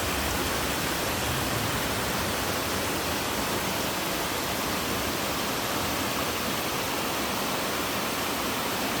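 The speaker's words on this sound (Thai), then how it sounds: "มันเป็นน้ำคล้ายๆน้ำตกนะครับไหลมาจากภูเขานะครับ" Water rushing down from a mountain like a small waterfall in the forest during the rainy season, a steady, dense broadband roar that holds unbroken throughout, loud and close with no voices.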